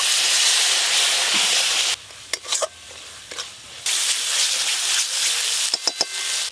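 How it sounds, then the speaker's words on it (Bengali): Water poured onto ground coriander, chilli and turmeric frying in a pan sets off a loud, hissing sizzle that drops away, followed by scattered stirring scrapes, then a second burst of steady sizzling up close. "ধনে গুঁড়ো লঙ্কা গুঁড়ো হলুদ গুঁড়ো মশলাটা যাতে পুড়ে না যায় তার জন্য অল্প একটু জল দেব"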